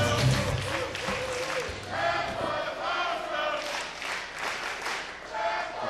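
A wrestling crowd rises for a standing ovation, with loud, sustained cheering, shouting and clapping that swells in waves, and commentator voices faintly underneath.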